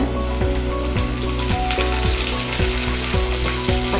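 Curry leaves crackle and sizzle steadily in hot oil for a papad curry, a dense, close frying hiss with rhythmic stirring knocks throughout and no voices.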